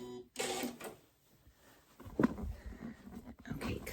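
A sewing machine reverse stitches back and forth across an apron pocket, with short mechanical bursts broken by pauses and some handling noise nearby.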